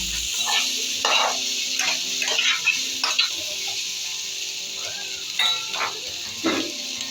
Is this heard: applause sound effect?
no